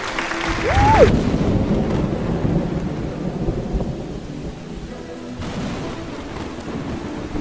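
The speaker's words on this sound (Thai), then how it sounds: "ดอกไม้ผมโดนฟ้าผ่าสองอัน" Loud rolling thunder from lightning strikes in the Roblox game Grow a Garden booms at the start and then rumbles on under steady rain-like hiss, with a brief tonal effect early on.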